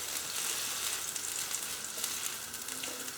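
A buttered ham and cheese toastie fries in a pan, butter side down, with a steady, dense sizzle throughout and faint crackles, close up and without talk.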